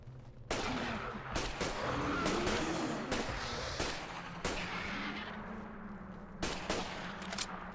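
Gunfire in Fallout 4: repeated loud gunshots, some in quick bursts and others single, over a constant dense background of game noise, with no talk.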